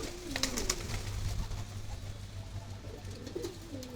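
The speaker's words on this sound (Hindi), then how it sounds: "मज़े मार रहे हैं सारे कबूतर" Pigeons coo in low, repeated throaty phrases, steady and fairly close, with faint high chirps and background rustle around them.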